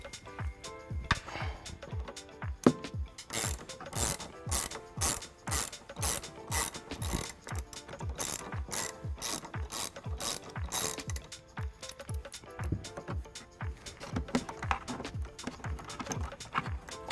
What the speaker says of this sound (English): take a Torx 40 to remove the plastic bolt